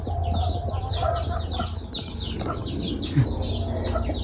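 Chickens clucking inside a chicken coop in the morning, several birds making busy overlapping clucks and chatter close by over a low background rumble.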